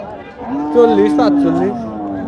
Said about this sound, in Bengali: এই পাশের দেখেন একটি গরু